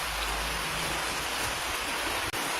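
Steady broadband rain hisses throughout, pouring continuously on surfaces nearby at a constant loud level with no break and no voices.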